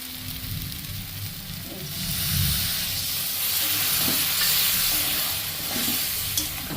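Banana stem, potato and poppy seed paste stir-fried in a pan, a continuous sizzle and hiss with scraping stirs that swell in the middle, moderately close with no talk.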